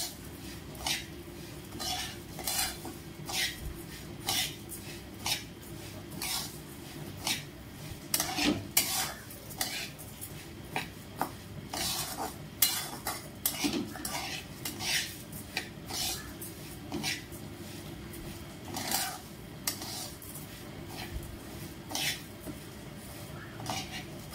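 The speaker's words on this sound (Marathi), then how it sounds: "मी भरडा आपला खाली लागलाही नाही पाहिजे, त्यामुळे सतत हलवावं लागतं त्याला" Coarse flour is roasted in a pan over medium heat for jaggery lapshi and stirred constantly. Rhythmic spatula scrapes and rasping strokes against the pan repeat steadily over a faint sizzle.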